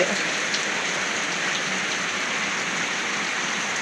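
Steady, even rain patter across the whole stretch, moderate and close, with no voices.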